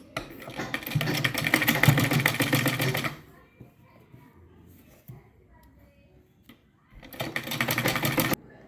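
An electric sewing machine stitches the front part of a blouse in two bursts, a loud, close, rapid mechanical whirring and clatter running about three seconds, then a quiet pause with faint sounds, then a second shorter run.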